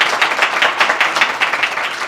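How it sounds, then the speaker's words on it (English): A conference audience at the micebook EXPO 2023 breaks into sustained applause at the close of a session, dense rapid clapping from many hands filling the room at close range. "Massive round of applause."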